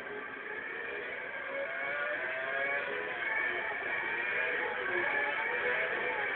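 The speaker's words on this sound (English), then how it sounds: "So the drivers making their way towards the grid on the final parade lap here this afternoon." Formula 1 cars on the parade lap at the Sepang circuit in Malaysia, a steady muffled engine drone that swells slightly as they pass, heard distantly through a narrow, broadcast-like band with no talk over it.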